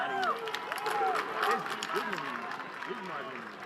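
A crowd at an outdoor march rally applauds Dontre Hamilton's mother with steady, moderately loud clapping while cheers and overlapping voices carry through it.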